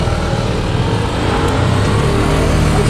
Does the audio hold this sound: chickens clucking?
no